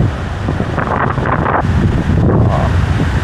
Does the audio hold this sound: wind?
yes